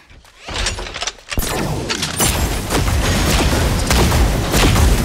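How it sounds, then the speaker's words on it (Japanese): Gunfire and explosions in the mecha battle game Super Mecha Champions come as a few sharp bursts, then a dense, loud barrage of shots and booms that carries on without pause. "銃声よ、気を引き締めて。"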